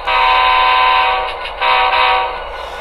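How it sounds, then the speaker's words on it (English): Two loud blasts of a K3LA three-chime diesel air horn from a model diesel locomotive sound decoder, the first long and the second following after a brief dip. "the default air horn is a K3LA 3-chime"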